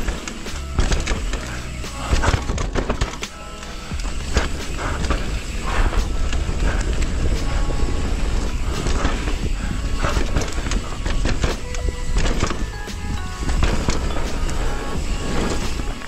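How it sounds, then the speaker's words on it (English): A mountain bike with a Fox 36 Rhythm fork rides down a trail, the fork clattering and knocking internally under a constant rush of wind and tire roar, loud and continuous throughout. "the noise you can hear on the GoPro is the sound of a 36 Rhythm deciding to play drums internally as it went down"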